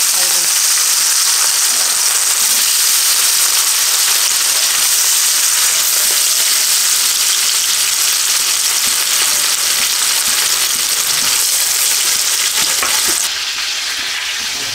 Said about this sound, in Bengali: এবার আমি মাছগুলো এক এক করে তেলে ছাড়বো।